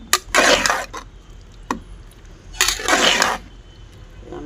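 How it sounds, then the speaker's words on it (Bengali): Cabbage being stirred into lentil dal in a pot, heard as two stretches of wet scraping and sloshing, broken by a few light clinks of the spoon against the pot. "দিয়ে ভালো করে নেড়ে পাতাকপি আর ডাল ভালো করে মিশিয়ে দেবো।"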